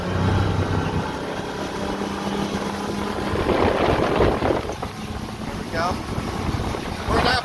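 Sea Hunt 207 boat from 2011 throttling up and climbing onto plane, a loud sustained outboard engine roar with rushing water and wind noise building steadily.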